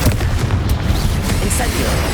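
A Confringo explosion spell in Hogwarts Legacy bursts with a loud, booming blast, dense low rumble and crackle, set amid combat noise with a voice shouting.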